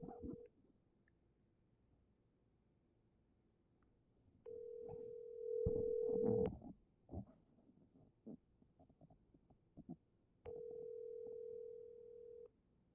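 An unanswered telephone ringback tone sounding in three long steady bursts with gaps between, quiet and close like a handset earpiece, with faint clicks and a brief scrape of movement in the pauses.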